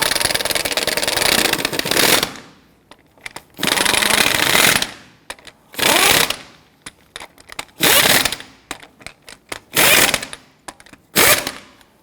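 An impact wrench snugging lug nuts onto a 2006-2010 Hummer H3 wheel in a garage, six loud rattling bursts of varying length separated by quiet pauses, close and with no talking.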